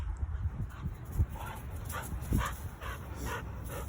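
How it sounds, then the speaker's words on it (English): A Rottweiler puppy makes short yips and whimpers with occasional barks, close by, in a small indoor space with faint background hum. "got a pup full of energy that wants to play."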